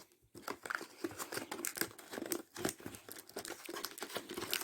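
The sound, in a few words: opening a cardboard box to unbox a Xiaomi TV Stick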